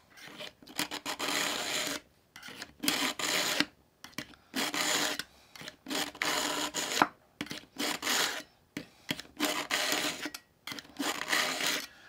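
A knife blade pulled through a Work Sharp Pivot Pro sharpener makes a rasping, gritty grinding in steady strokes, each pull lasting about a second with short pauses between, loud and close with no talk.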